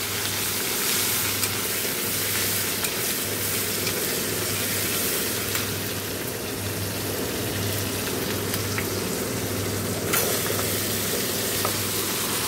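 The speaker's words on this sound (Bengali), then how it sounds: "দেখো 5 ফোড়ন শুকনো লঙ্কা দিয়ে টমেটো লঙ্কাটা দিয়ে দিয়েছি।" Tomato, chilli and dried red chilli frying with panch phoron and garlic in a pan, a continuous hissing sizzle that sounds almost like steady rain, with a low hum beneath and no speech.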